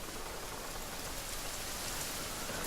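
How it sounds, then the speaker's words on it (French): Steady rain falls in The Forest survival game, a constant close hiss of drops on the ground with no breaks and no voices. "Là déjà la pluie ça arrange rien du tout."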